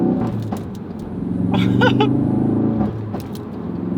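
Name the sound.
Ford Focus RS exhaust pops between gear shifts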